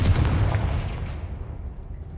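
A Confringo blasting spell explodes in Hogwarts Legacy, a heavy booming blast with a deep low rumble that decays and trails off over about two seconds, with no talk.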